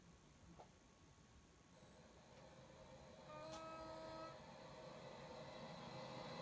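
A train passes at a station in the Roblox rail game Stepford County Railway, a steady low rumble that swells midway with a brief high squeal and ringing tonal whine, no talk.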